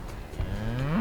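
Cows mooing close by in the bush, a single low drawn-out moo rising and swelling to the end of the short clip.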